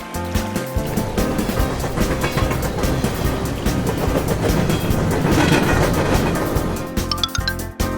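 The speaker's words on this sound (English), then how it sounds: "Train." Cartoon-style train passing sound effect for a kids' street vehicles cartoon, a steady loud rumble with rhythmic clatter lasting several seconds before cutting off, with no talking.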